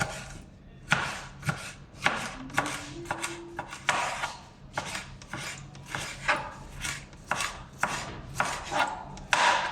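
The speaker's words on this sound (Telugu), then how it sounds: "టమాటాలు వచ్చి బాగా సన్నగా కోసుకుంటే తొందరగా మగ్గిపోతాయి" A knife chops tomatoes finely on a board in a quick, close, steady rhythm of crisp thuds, roughly a dozen strikes over several seconds, with no talking.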